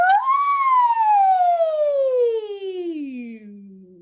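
Voice actors imitate a siren as a vocal warm-up, singing one long sweep that rises briefly and then slides slowly down in pitch for about four seconds. The sound is close and loud, with no other sound around it.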